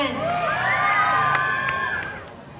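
Pageant audience cheering, whooping and shouting in a sustained, loud crowd roar with high excited voices rising and falling, ending slightly quieter.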